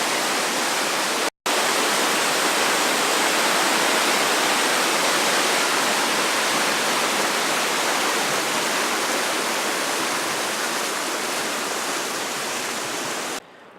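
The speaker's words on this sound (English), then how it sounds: "So we took this little side trail to see this magnificent cascade that heads down." A mountain cascade tumbling down near Glen Aulin in Yosemite gives a loud, dense, unbroken roar of rushing water. The roar cuts out for an instant near the start and holds steady to the end, with no voices.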